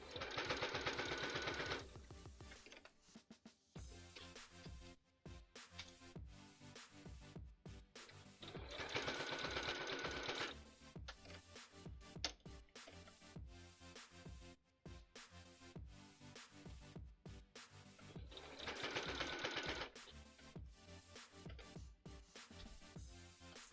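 A home sewing machine stitches around a circle on an Infested Daughter cosplay costume piece, running in three separate bursts of a few seconds each, with music playing between and beneath them.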